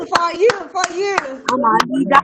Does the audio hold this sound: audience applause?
yes